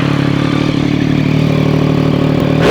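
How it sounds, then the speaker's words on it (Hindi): Triumph Daytona 675 motorcycle with a slip-on exhaust idling close by, a steady, throaty exhaust note holding level throughout and rising briefly at the very end. "एक बार एग्जॉस्ट नोट सुना दें।"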